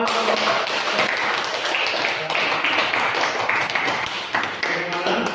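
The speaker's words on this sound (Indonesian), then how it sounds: "Ya, tepuk tangan." A class of students claps together in a classroom, producing a dense, sustained patter of applause lasting several seconds.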